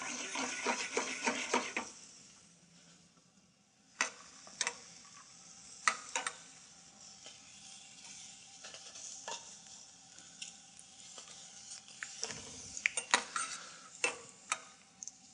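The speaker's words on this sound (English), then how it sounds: "you can see that these peanuts are starting to bubble in the hot oil" Peanuts bubbling and frying in hot oil for Mexican red mole, a soft continuous sizzle broken by sharp clicks and pops at uneven intervals, a rapid run of them near the start.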